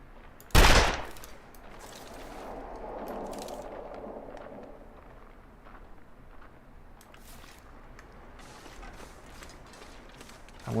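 A single sharp, loud pistol shot fired at a deer in the survival video game The Long Dark, followed by a soft rising mechanical whir and faint clicks and creaks of the weapon being handled.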